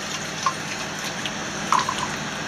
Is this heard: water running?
yes